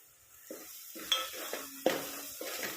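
Masala sautéed and stirred in a pan for a festive puran meal: intermittent scraping stir strokes and light metallic clinks over a soft, steady sizzle, close and fairly quiet.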